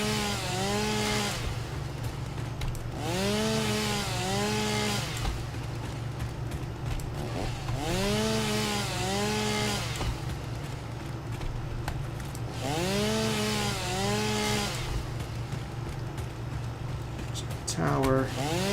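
Chainsaw cutting through foliage in the video game Satisfactory, a steady buzzing engine drone running throughout with repeated rising and falling whine cycles as it cuts, loud and close, with no talking.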